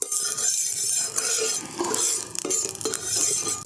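Oil spread around a lightly heated tawa while making a tiffin recipe, a soft continuous sizzle with scraping and stirring strokes from a utensil, close and fairly loud, no talking.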